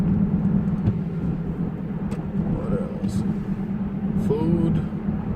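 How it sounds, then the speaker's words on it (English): Steady road rumble and engine drone from inside a car cruising at about 50 mph along a freeway feeder road on Texas Pasadena Freeway 225, continuous and fairly loud, with faint brief tones passing over it. "we're cruising at 50 miles an hour along the feeder road"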